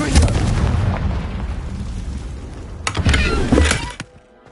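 A fiery Confringo spell blast in Hogwarts Legacy booms with a heavy rumbling burst, followed by a second sharp explosive crack and a quick fade, loud and close.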